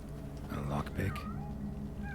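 A cat meows in The Witcher 3: Hearts of Stone, a few short mewing calls over a steady game background, fairly close and moderate in level.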